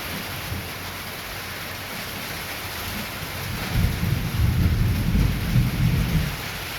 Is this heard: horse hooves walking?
no